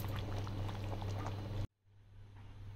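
Water being poured off half-boiled rice for mushroom biryani, a loud steady gush of liquid heard close by that cuts off abruptly, leaving quiet room noise.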